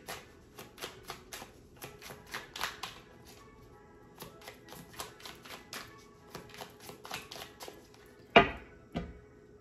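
Tarot cards are shuffled by hand in quick irregular riffling taps, fairly close and soft, ending with a couple of sharper knocks.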